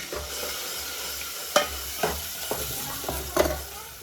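Chopped onion sizzles steadily in a hot pan while a spoon stirs it, with a few distinct scraping clicks against the pan over the continuous frying hiss as pasta is prepared.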